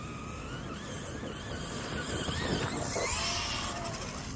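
The engine of a red truck revs hard, its pitch climbing, while the wheels spin and churn in really soft dirt with a continuous rough, gritty roar and some squealing.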